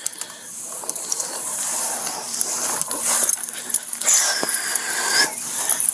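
A small blind, deaf dog whimpers and wheezes in thin, high cries over a steady rustling background while being handled and rescued, the sound fairly close and continuous without talk.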